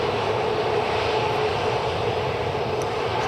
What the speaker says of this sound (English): It's a WestJet just lining up now.